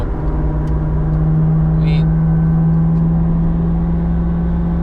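A naturally aspirated C7 Corvette engine on the Nürburgring holds a loud, steady high drone under speed, heard from inside the car, with a voice briefly present in the cabin.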